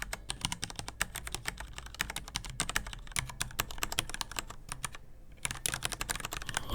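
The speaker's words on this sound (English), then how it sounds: "the Dygma Raise comes with an EVA foam between the PCB and the top plate. Thanks to this solution, the keyboard will produce a deeper sound" Rapid, steady typing on a Dygma Raise split keyboard fitted with EVA foam between the PCB and top plate, giving dense, deep clacks in continuous bursts with one brief pause, close and clear with no voices.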